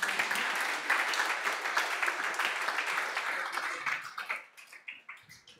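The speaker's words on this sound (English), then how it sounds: "A big applause for the jury." Audience applause for the jury at a student challenge pitch and closing event, dense steady clapping that thins out toward the end into scattered individual claps.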